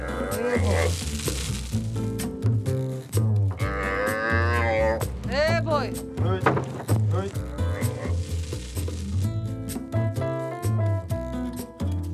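Deep buffalo lowing, long drawn-out moans rising and falling, mixed with a voice talking and a steady background bed of sound.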